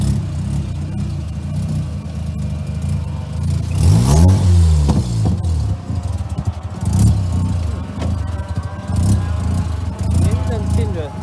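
A Renesis rotary engine swapped into a Mazda RX-7 race car at a track test day revs unevenly instead of settling to idle, a loud rasping drone with a sharp rise and fall of revs, while people talk nearby.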